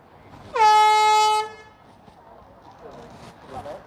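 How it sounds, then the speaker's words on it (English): A loud air horn blasts once for about a second at a crazy golf championship, a steady harmonic tone, followed by faint distant voices. "stand by for the air horn"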